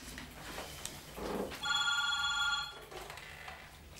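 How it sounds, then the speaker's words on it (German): A telephone bell rings in one short, bright burst of about a second, heard indoors at moderate level after some quiet shuffling and faint room noise. "Das Telefon, es läutet."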